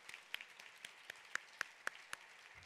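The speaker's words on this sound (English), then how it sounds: "Let's please give a big round of applause to these award recipients." Faint, sparse applause at a nursing educators' award ceremony, honoring award recipients: a handful of distinct, separated claps spaced across a quiet room.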